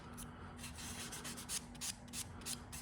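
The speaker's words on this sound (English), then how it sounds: "And so we can keep coming in and just sanding down." Primer filler on a surface is sanded by hand in quick, rhythmic rubbing strokes, close and faint.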